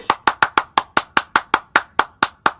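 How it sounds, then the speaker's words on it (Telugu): Hands clap in a steady sequence of about a dozen sharp claps, evenly spaced and close, with no talking over them. "చప్పట్లు కొట్టండి"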